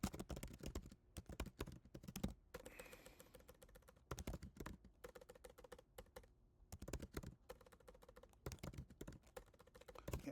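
Rapid clicking keystrokes on a computer keyboard in short bursts separated by brief pauses, close and fairly quiet, with no voices.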